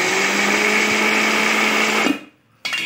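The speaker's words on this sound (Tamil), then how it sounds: "நம்ம ஃபஸ்ட்டு மல்லாட்ட பயிரை போட்டு மிக்ஸி ஜாரில் குறப்பாக அரைச்சி எடுத்துக்கலாம்." A mixer grinder coarsely grinding peanuts whirs loudly and steadily for about two seconds, then cuts off into brief silence before starting up again.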